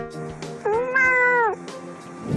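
A single clear, drawn-out cat meow, close and loud, rising then holding before fading, with faint background noise around it.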